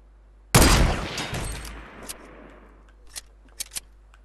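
One loud, close sniper rifle shot in a video game, cracking sharply and then rolling into a long decaying echo, followed by a few faint scattered clicks and taps.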